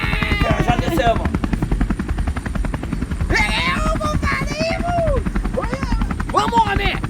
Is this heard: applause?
no